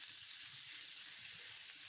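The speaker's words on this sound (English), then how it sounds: "Just got this frying off now" A soft, even sizzle of chorizo frying in a pan, a steady bright hiss throughout.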